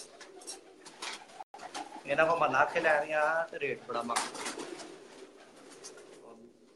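Pigeons coo on a rooftop loft, low throaty calls mixed in with men chatting close by in the foreground.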